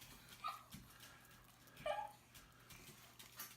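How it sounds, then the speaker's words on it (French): A pet dog in a home kitchen where chicken and bacon are being prepared gives a couple of faint, short high whimpers and yips amid quiet room noise. "Là, en ce moment, vous entendez mon chien"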